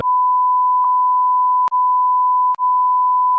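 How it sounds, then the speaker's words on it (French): A loud, steady electronic bleep tone holds continuously, broken by a few brief clicks and one short gap near the end. "Je vais absolument tout biper"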